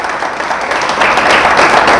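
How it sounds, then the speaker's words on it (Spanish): A church congregation claps loudly for God during a Spanish-language sermon, a dense, steady wash of applause that swells slightly louder toward the end, with no voices over it. "Le damos un fuerte aplauso al Señor."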